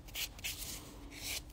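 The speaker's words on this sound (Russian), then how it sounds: "Шлифовочной пилочкой шлифану" A buffing file sands a gel nail base coat in quick back-and-forth rasping strokes, soft and close, several brief scratchy passes in a quiet room.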